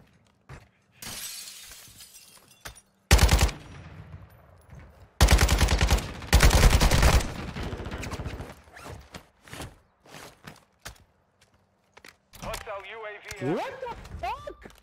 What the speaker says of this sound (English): I'm getting sniped at now too.